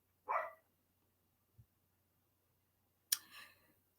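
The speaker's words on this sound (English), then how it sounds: "as our dog barks" A house dog barks indoors, two sharp isolated barks about three seconds apart with a faint thump between, fairly quiet against a low background hum.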